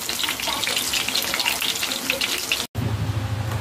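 A chicken breast burger patty fries steadily in a pan, a dense, continuous sizzle and crackle that fills the clip, with one brief drop-out near the end before the frying resumes.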